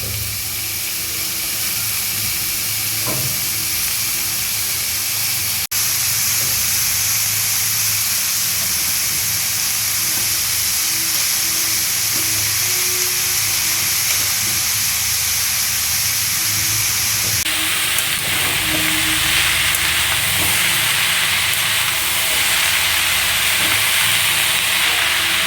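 Chopped vegetables sizzle and fry in a pan with garlic, onion and ginger paste, a steady loud hiss that runs throughout with faint scraping taps now and then and no talking.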